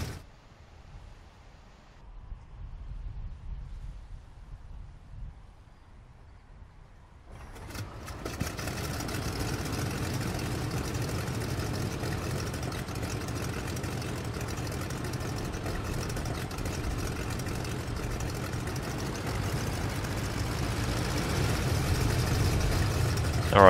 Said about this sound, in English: now the engine started